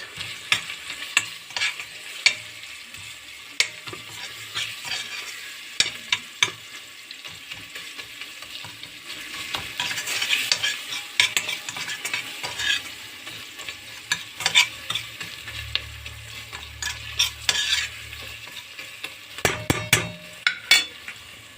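Onions and tomato paste sizzle and fry in a pan while a utensil stirs and scrapes, with scattered clinks throughout; no one speaks.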